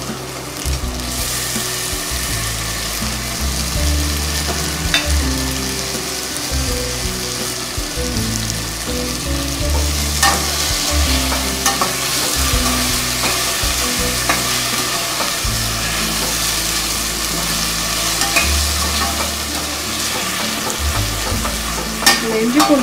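Tomatoes sauté with ginger garlic paste over a low flame for a green spicy soya vegetable biryani, giving a steady sizzle broken by repeated scraping stirs of a spoon in the pan, with no talking.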